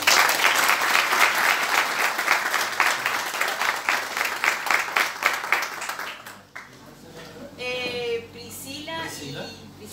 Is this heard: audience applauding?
yes